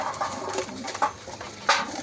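Soft pigeon coos come in a few short, low phrases, fairly close, with a louder burst near the end over a quiet background.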